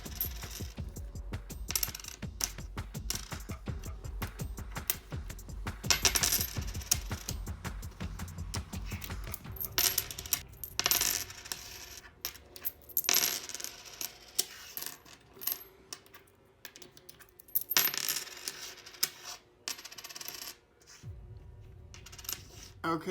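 Pennies are tossed and dropped for an I Ching reading, making repeated small metallic clinks and rattles in bursts, close by, with occasional quiet talk.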